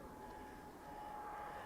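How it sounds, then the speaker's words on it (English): Airplane flying overhead near Fukuoka airport, heard from Nokonoshima island as a faint, steady engine drone that holds evenly throughout, no voices. "Another aeroplane."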